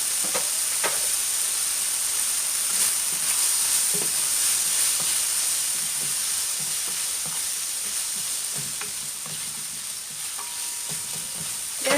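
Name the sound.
croquettes frying in heated cooking oil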